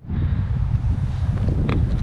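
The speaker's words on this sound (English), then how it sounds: "Pouring rain, nice and windy" Strong wind roars in pouring rain on a slippery rock-face climb near Munra Point. The blustery noise is steady and close to the microphone, with no speech.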